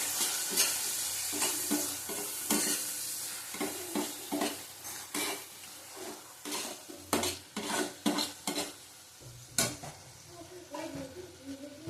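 Spices sizzle in a pan with Kashmiri chilli powder, stirred repeatedly so a utensil scrapes and clinks against the metal in irregular bursts over a steady frying hiss, close up and with no talking.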